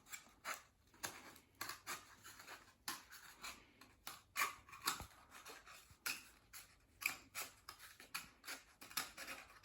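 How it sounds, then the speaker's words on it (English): Scissors snip through paper in a series of short, crisp cuts at an uneven rhythm, close and fairly quiet, with no voices. "I'm going to trim that down with my scissors"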